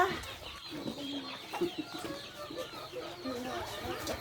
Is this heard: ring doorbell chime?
no